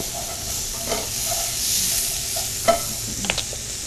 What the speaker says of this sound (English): I like to put my mushrooms in early, because before I add my liquid, I want to get that flavor going in them, from the saute